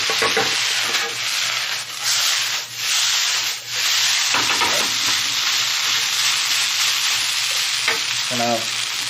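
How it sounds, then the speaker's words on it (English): Rice for garlic fried rice, cooked with Spam and bacon, fries in a pan under a loud, continuous scraping stir and hissing sizzle, heard up close with a few brief dips. "Give it a little stir."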